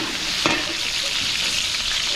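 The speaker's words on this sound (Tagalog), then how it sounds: "So, igigisa na natin sa bawang sibuyas." Garlic and onion sautéing in a pan with potatoes and carrot, a steady loud sizzle and crackle with a brief stirring scrape, close and continuous.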